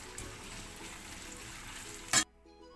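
Onions frying in hot oil until crisp for biryani, a soft continuous sizzle close by, ending in a brief louder clatter before sudden quiet.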